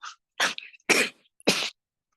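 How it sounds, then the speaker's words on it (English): Three sharp coughs in quick succession, close and fairly loud, each a short harsh burst with brief pauses between. "When I laugh, I will cough."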